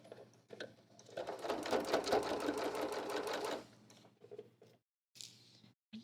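Sewing machine stitching a fabric pocket, a close rapid mechanical whir for a couple of seconds, then quieter handling clicks and short pauses.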